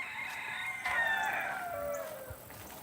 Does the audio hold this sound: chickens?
yes